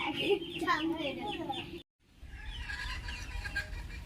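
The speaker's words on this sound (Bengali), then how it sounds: "ওদিকে হাঁসগুলো ডাকছে" Ducks calling on a rural village homestead, a run of short, rough honking calls close by, broken by a brief silent gap and then a softer, busier stretch of bird noise.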